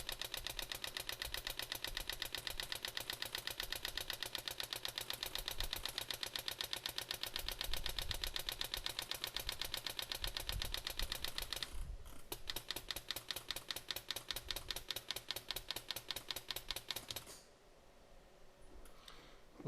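Pneumatic hand engraving tool cutting metal during stone setting: a rapid, steady mechanical ticking buzz that runs for most of the clip, drops out briefly partway, resumes, then stops before the end.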